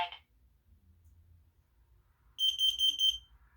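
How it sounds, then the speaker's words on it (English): A combination carbon monoxide and smoke alarm sounds a rapid series of about six shrill electronic beeps, loud and close, after a brief chirp and near silence. "the I-9040 and the carbon monoxide alarm just flashed with fire"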